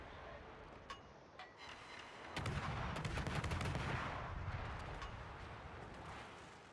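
Secondary guns on a warship fire in a naval battle game, a burst of booming reports swelling to a dense rumbling barrage over steady sea and engine noise, then slowly fading.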